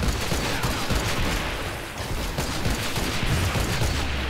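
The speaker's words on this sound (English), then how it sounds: "Oh, getting shot at." Dense, loud gunfire in Fortnite Save the World, continuous rapid shots and booms layered over each other with no pause and no talking.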